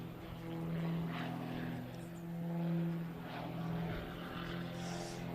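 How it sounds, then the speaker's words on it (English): Propeller-driven model aircraft performing aerobatics at an airshow, diving from height and climbing into a tumble, its engine drone rising and falling steadily at a moderate distance with no talk over it. "Model coming down from on high on the 45 as Chris climbs on the 45 into a tumble."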